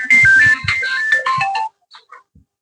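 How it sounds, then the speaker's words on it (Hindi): A mobile phone's melodic ringtone plays loudly and close for under two seconds before cutting off, followed by a few faint clicks. "अब के बजावे लगा फोन।"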